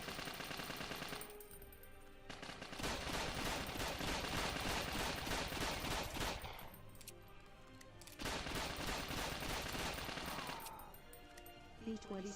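Rapid automatic gunfire from enemies shooting in a video game, long dense bursts of continuous fire with short pauses between them, loud and close throughout.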